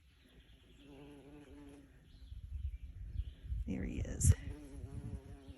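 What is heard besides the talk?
bumblebees buzzing in garden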